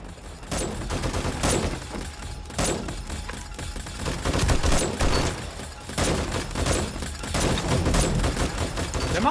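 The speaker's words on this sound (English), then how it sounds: "These turrets are awesome, everybody. I love these turrets." Turrets in 7 Days to Die fire in dense, rapid bursts from a steel killbox, with loud clustered gunfire recurring in waves through the stretch and no talk over it.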